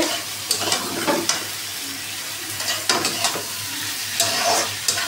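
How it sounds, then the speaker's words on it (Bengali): Fried okra stirred with spices in a hot pan: a bed of sizzling oil broken by repeated scraping strokes of a spatula, close and moderately loud, with no voices. "ঢ্যাঁড়সগুলো দিয়ে নাড়াচাড়া করে"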